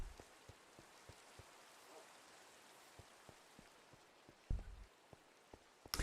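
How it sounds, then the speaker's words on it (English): Rain falling in a video game, a soft steady patter with scattered distinct drop ticks and a few louder hits near the end, faint and without talk. "This is like the 4th time it's rained this stream."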